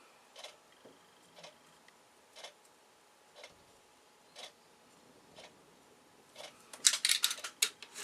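Paper for a traveler's notebook folder is cut along a marked line, heard as a series of faint, evenly spaced ticking snips followed by a brief cluster of sharper, louder cuts near the end.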